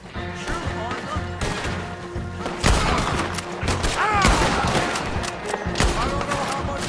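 Gunfire during a shootout in the video game Red Dead Redemption 2, with sharp shots and heavier booms scattered irregularly over a busy background of music and game noise, loud and close.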